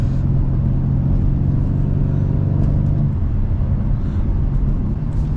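A Mercedes-AMG C63 S drives through a Canadian winter, its engine a loud, steady low rumble heard from the cabin with only slight variation throughout.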